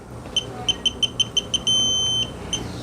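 A VANPO half-inch drive digital torque wrench gives a series of eight short, sharp electronic beeps in even rhythm, then one long sustained tone and a final single beep, close and clear over quiet background.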